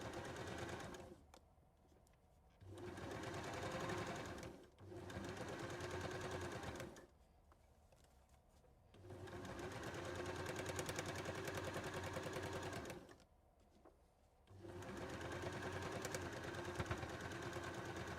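A sewing machine stitches around the top of a fabric bowl, running in several steady bursts of a few seconds each with short quiet pauses between them, close and fairly loud with no talk.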